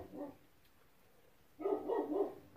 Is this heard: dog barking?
yes